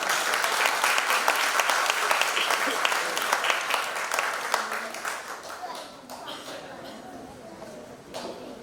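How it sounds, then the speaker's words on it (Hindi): Audience applause at a children's singing competition grand finale in Mumbai, a steady dense clapping from a crowd that gradually thins and fades toward the end, with a few scattered claps lingering. "जोरदार तालियां सागर भाई के लिए"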